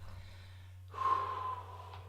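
One slow, soft breath exhaled through the nose or mouth during a box-breathing exercise, a breathy rush lasting about a second after a quiet pause, close and gentle.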